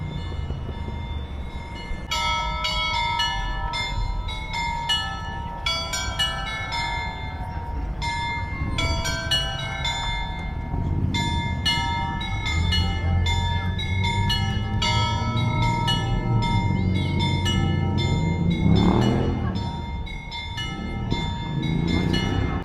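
Church bells ring out in a bright, repeated pealing pattern, moderately near, over a low rumbling background of passing traffic or a train that swells and fades.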